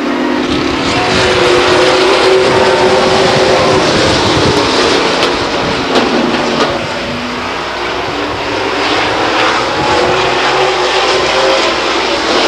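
Racing trucks at Stockton 99 Speedway under green flag conditions, a loud continuous engine roar that swells and holds steady as the field passes close by, with no talk over it.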